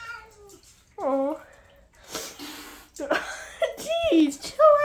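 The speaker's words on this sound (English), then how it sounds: "These goofy cats are..." Cats fighting indoors give drawn-out, wavering meows and yowling caterwauls, close and rising in pitch, with a person speaking briefly between the cries.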